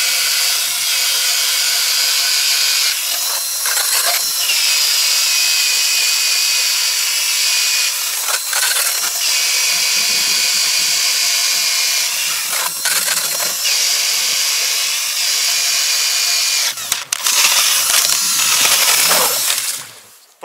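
A Bosch cordless drill on low gear spins a Mora ice auger bored into lake ice, a loud steady whine and grinding hiss that runs continuously with brief dips, then cuts off at the end.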